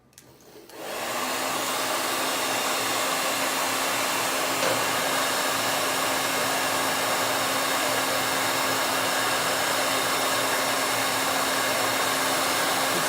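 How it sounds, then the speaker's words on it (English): A hair dryer switches on and runs loud and steady, a continuous whooshing roar with a fixed motor whine that holds unchanged for the whole stretch, with no talking. "I'm gonna run the hairdryer for a minute"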